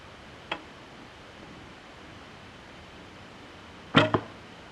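Two arrows shot from a traditional bow with a wire rest: a soft, brief snap early on, then a louder, sharper release-and-impact pair near the end, close and isolated against quiet background hiss.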